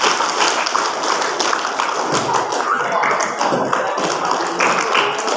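Students in a school hall clapping in a rhythmic counting game, a dense run of loud, close hand claps with a crowd murmur and voices underneath.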